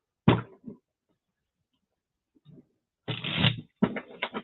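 A deck of tarot cards is shuffled by hand in short riffling bursts, a brief one near the start and then a longer run of crisp, close ruffling and flicking toward the end, with quiet pauses between.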